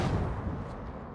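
Warship guns firing in a naval combat video game: a heavy, loud boom with a rumbling low-end roll that decays over about a second, with no talk over it.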